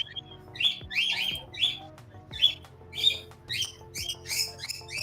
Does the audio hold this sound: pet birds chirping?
yes